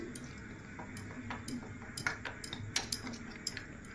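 Metal spoon stirring water into meat masala (chili powder, turmeric) in a bowl, with light irregular clinks and taps against the bowl, quiet and close.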